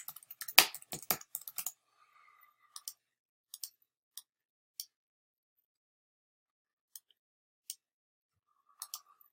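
Burst of rapid computer keyboard keystrokes and clicks for about a second and a half, followed by scattered isolated clicks spaced across a quiet room.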